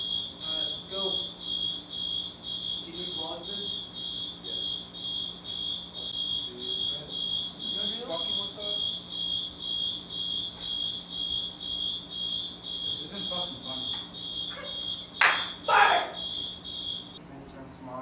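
Indoor fire alarm blaring nonstop, a shrill pulsing electronic tone holding steady, with voices talking underneath and a brief louder burst of noise near the end.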